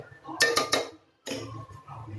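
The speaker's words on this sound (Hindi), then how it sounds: "इसको अच्छे से मिक्स करेंगे" Spoon scraping and clinking against a pan while marinated chicken in yogurt is stirred for a spicy gravy, two short bursts of metallic knocks separated by a brief pause.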